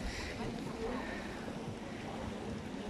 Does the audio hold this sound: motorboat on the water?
yes